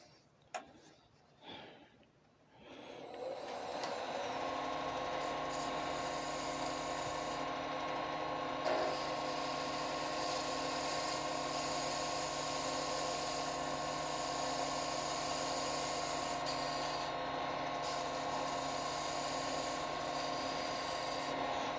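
A wood lathe spins a honey bee pen blank while a poorly sharpened gouge cuts it, producing a loud, steady whine with a harsh scraping edge that runs continuously after a brief quieter start.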